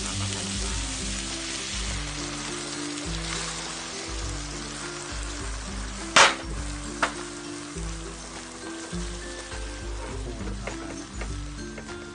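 Beef stir-fried with Thai shrimp paste sizzles steadily in a hot pan, a continuous frying hiss with low rhythmic stirring scrapes and one sharp clack of a utensil midway.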